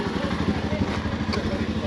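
A Royal Enfield Himalayan motorcycle engine idles nearby, a steady low throbbing pulse that runs evenly throughout under quiet background sound.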